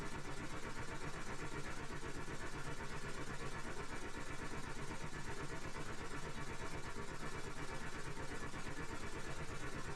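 Steam engine running hard in the Steam Engine Simulator video game at about 150 pressure, a steady, loud, dense mechanical chugging with a fast regular pulse throughout, no voices.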